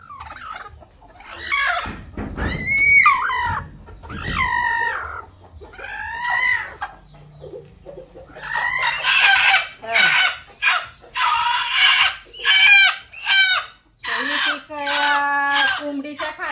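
Native desi hens sit brooding over clutches of about a dozen eggs in a village poultry coop. Loud, repeated clucking and squawking comes close by in bursts, joined by a rooster's crow.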